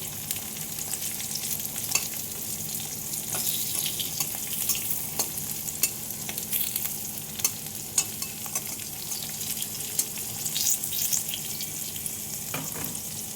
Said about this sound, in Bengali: এভাবে আলুগুলো এখন ভেজে নেব।